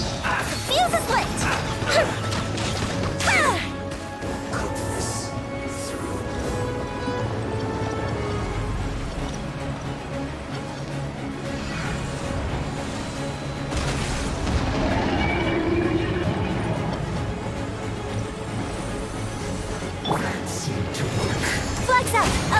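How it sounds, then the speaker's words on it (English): Fireworks in the video game Genshin Impact, a long run of booming blasts, crackles and crashing impacts layered over game music and effects, continuous and loud. "Here come the fireworks!"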